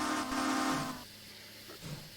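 Locomotive hooter whistle on a steam train, one loud sustained blast of about a second that cuts off sharply, followed by quieter rumbling and hissing.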